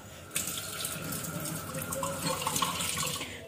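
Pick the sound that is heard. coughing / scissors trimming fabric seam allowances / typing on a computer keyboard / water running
water running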